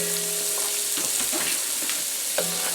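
Onions sautéing in a pot for clam chowder, a continuous close hiss of frying with scattered soft stirring knocks and scrapes.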